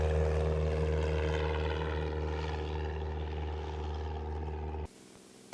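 A Cirrus SR22 propeller plane takes off from runway 15 with a loud, steady engine drone and buzzing propeller harmonics close by, cutting off abruptly near the end.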